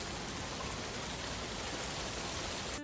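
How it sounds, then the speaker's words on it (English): Steady, even rain patters on surfaces nearby, a constant soft hiss with no pauses or voices. "it is raining out."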